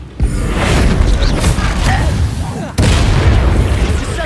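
Bombarda spell blasts in the wizarding game Hogwarts Legacy, a loud sustained booming explosion with a second burst partway through, rumbling under battle noise and shouted spell voices.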